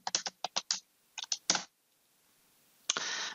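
Typing on a computer keyboard: a quick run of about a dozen close clicking keystrokes in short clusters, a pause, then a brief sustained rattle of keys.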